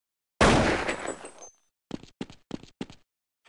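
A single loud gunshot blast in a video game rings out and decays over about a second, then four short, sharp clicks or thuds follow in an even rhythm.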